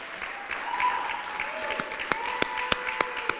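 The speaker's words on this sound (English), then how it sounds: "I ask that we all give a great big round of applause for these six hardworking students" Applause at a guide dog graduation ceremony: a crowd claps steadily indoors, with a few sharp, close claps standing out toward the end.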